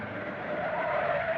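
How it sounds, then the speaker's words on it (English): A car's brakes jam on and its tires skid in one loud, sustained screech that swells slightly toward the end, heard alone without voices. "Don't ever jam your brakes on like that."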